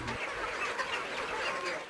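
Chickens from a farm flock cluck and chatter at close range in a steady, busy mix of short calls, with the background of the poultry house under them.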